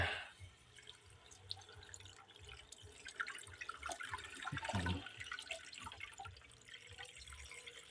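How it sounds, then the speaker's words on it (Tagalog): Water trickles and splashes into a pot of whole free-range chicken for tinola soup, faint and close, with drips and a brief louder pour midway. "Lagyan natin ng tubig."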